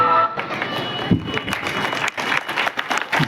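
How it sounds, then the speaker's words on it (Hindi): Audience applause at a festival stage performance of a Jhansi Ki Rani act, a dense burst of clapping that rises after a brief lull and carries on through the moment. "जोरदार तालियों से स्वागत करें"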